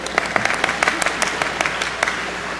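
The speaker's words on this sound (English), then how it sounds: "Yeah, you can clap." An audience at a Unitarian Universalist General Assembly award ceremony claps in a brief burst of applause, many hands patting in quick, uneven rhythm under a speaker's voice.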